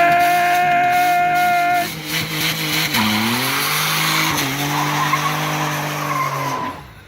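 A Honda Passport doing a neutral-drop launch lets out a loud engine roar as its tires squeal in long, wavering tones for several seconds, close by, before the sound cuts off.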